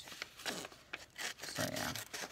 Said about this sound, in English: what's easiest is these little silly scissors